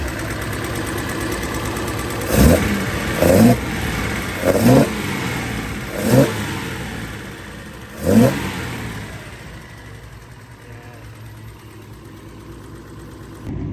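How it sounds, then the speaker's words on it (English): A 1971 Nissan Skyline with custom headers and a new exhaust revs in five sharp bursts at a steady pace, loud and nearby, then settles back to a low idle. "give you guys a sound sample and then some flybys to show you how the new exhaust sounds"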